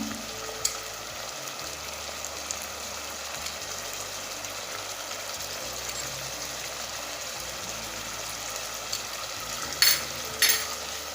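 Fried baingan masala with red chilli and dry coriander roasts in a pan with a soft, steady sizzle, broken by a couple of sharp clicks near the end.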